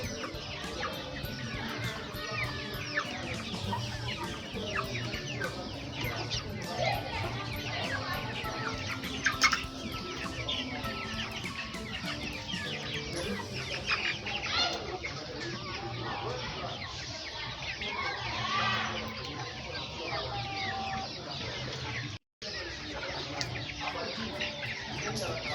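Domestic chickens cluck and call steadily in a busy coop during fowlpox vaccination, a continuous dense layer of fowl noise with occasional louder squawks and faint human movement throughout.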